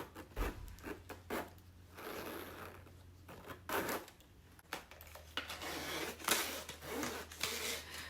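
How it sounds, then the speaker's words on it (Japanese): Repeated zipper pulls on a Michael Kors bag and rubbing of fabric or leather, close up, in short bursts with brief pauses, with a low steady hum underneath. "ジッパーがやっぱりライフスタイルの方がかなりスムーズになってます"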